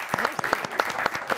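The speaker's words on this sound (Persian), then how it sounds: "تشویقش کنید" Studio audience on a Persian talk show applauds a musician guest, a brief burst of close, crisp, rapid hand claps with crowd noise mixed in.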